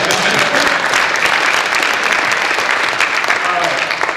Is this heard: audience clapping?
yes